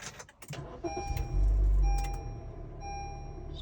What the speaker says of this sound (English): So I'm going to start the engine now.